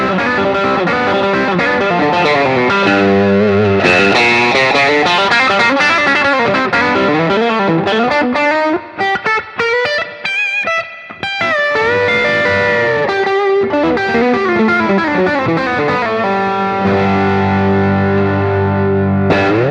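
Electric guitar runs through a Way Huge Doubleland overdrive with the tone dial turned down, giving loud, sustained overdriven chords and bending lead lines that ring continuously and close up.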